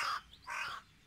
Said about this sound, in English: Or a couple of noisy crows.